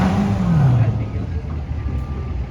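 A drag racing car accelerating hard down the strip, its engine note sweeping and dropping through gear shifts, heard from a distance under crowd and ambient noise.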